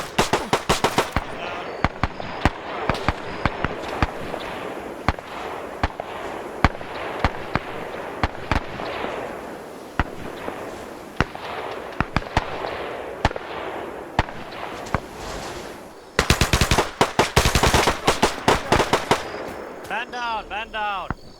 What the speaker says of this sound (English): Another guy just got shot.